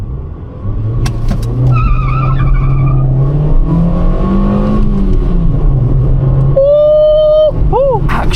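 A Toyota Yaris engine drones loud and close at full throttle, its pitch climbing and wavering as the car accelerates hard from a launch, with a brief higher whine near the end.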